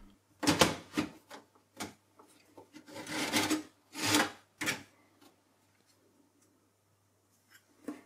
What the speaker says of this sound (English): use the green latch to release the drive and slide it out towards the front